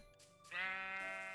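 A single sheep bleat from the Minecraft video game plays as the animal is sheared, a short wavering cry that swells after a faint onset and sustains to the end.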